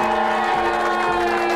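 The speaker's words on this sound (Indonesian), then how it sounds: "Tepuk tangan dulu semuanya," A studio audience on an Indonesian surprise-money TV show claps and cheers in a steady, dense roar that holds at full level for the whole brief moment.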